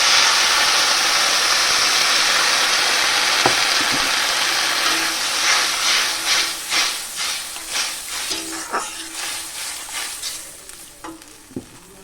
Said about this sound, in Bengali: এবার পরিমাণ মতো আমি একটু জল দিয়ে দেব অল্প করেই দেব